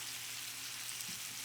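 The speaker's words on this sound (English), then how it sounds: "we're going to let that fry up" Chicken drumettes fry in oil in a cast iron skillet for a sticky soy sauce dish, giving a steady close hiss that holds even across the short moment, with no voices.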